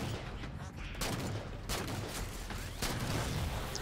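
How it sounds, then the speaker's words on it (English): Dense, continuous enemy gunfire in a Halo Spartan Ops mission, a steady barrage of shots close by with no clear gaps, heard alone without talk. "Still getting shot at."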